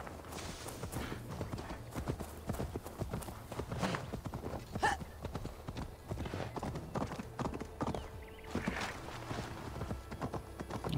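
Steady clip-clop of horse hooves at a trot, close and continuous, with an occasional whinny over a busy, low background rumble, in the video game Assassin's Creed Valhalla.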